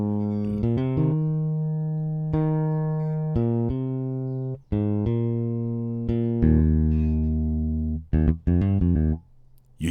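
Synth bass line built from a mouth imitation for an Afrobeat beat, with sustained low tones that step between notes in a steady, close, moderately loud phrase, with no talk over it.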